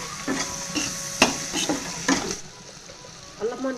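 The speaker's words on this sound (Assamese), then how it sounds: "আৰু এইখিনি ভালকৈ ভাজি ল'ম।" Onion, ginger, garlic, spices and chopped tomatoes fry in a pan while a spoon stirs them in repeated scraping strokes over a steady close sizzle, with short spoon clatters. The sizzle carries on alone near the end.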